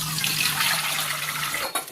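Water runs steadily from a tap over tomatoes being washed, splashing continuously at close range before a brief clatter near the end.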